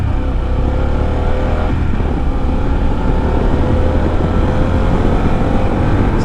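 A motorcycle engine drones loudly and close throughout, a steady rumbling hum with a slight rising rev in pitch, no voices over it.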